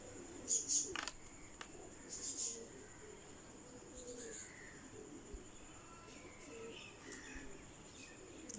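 Pigeons kept on a rooftop in Sialkot give soft low coos alongside a few bird chirps and a faint steady insect drone, fairly distant and quiet with brief bursts of calls.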